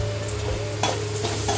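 Egg rice sautéing in a pan until golden, giving a steady close sizzle with a few brief scraping stirs, no voices.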